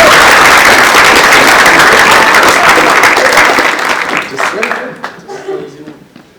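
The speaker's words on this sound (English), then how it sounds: "Can we have one more round of applause" An audience at a school assembly applauds loudly in a dense wash of clapping that holds for several seconds, then thins into scattered claps and fades out.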